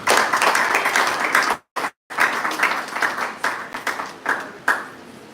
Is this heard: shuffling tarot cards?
no